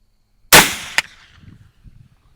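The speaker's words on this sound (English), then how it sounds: "we'll go ahead and cock this back and shoot" A muzzleloader rifle fires once at a target during early-season deer hunting on Kansas public land, a loud sharp blast with a quick echo cracking back, then quiet outdoor ambience.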